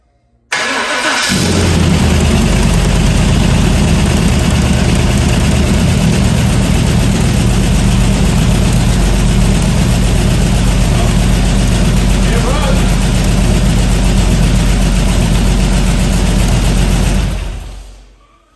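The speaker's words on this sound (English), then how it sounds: "We'll go ahead and get the starter to run." A newly built car engine cranks on the starter and catches, then runs loud and steady at a rough idle for about sixteen seconds before cutting off, with no talk over it.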